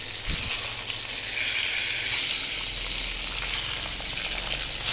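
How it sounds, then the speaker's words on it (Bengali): Fish heads fry in oil in a pan over a medium flame, giving a steady, close, bright sizzle that hisses evenly throughout with no talking. "এবার মিডিয়াম ফ্লেম করে মাছের মাথাগুলোকে হালকা ঢেকে ভেজে নেব।"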